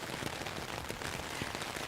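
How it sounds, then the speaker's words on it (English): Steady rain falling during a walk, a dense even hiss of drops with scattered patters, continuous and close throughout. "You know, Digi, I love listening to rain videos because they calm me down"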